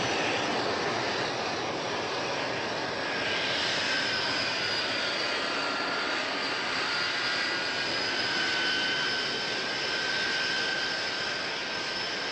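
A departing airplane's engines roar steadily with a loud, sustained jet-like whine that holds evenly throughout, with no voices over it.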